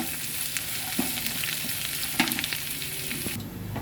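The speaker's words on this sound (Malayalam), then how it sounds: "എന്നിട്ട് നമുക്ക് നന്നായി ഇത് എണ്ണയിൽ വഴറ്റിയെടുക്കണം." Chopped shallots sauté in hot oil in a pan with browning coconut for a prawn dish, giving a steady close sizzle with a few soft stirring knocks and no voices.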